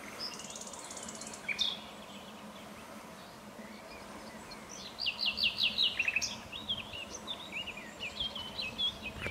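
A nightingale sings in the background at a quiet French fishing spot. Faint trilling, whistled phrases come in bursts, one brief and one longer run, over a soft hum of insects.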